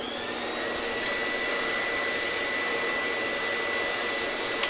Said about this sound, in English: Let's vacuum this a little bit.